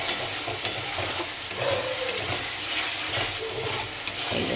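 Meat sizzles in a pan while being cooked down for kosha mangsho, a steady close hiss with faint stirring and a few soft knocks, no speech.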